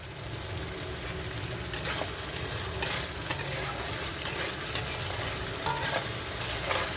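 Spice paste with tomatoes sizzling steadily in hot oil in a pan for a jackfruit and prawn dish, a continuous close fry with occasional scraping stirs and small pops.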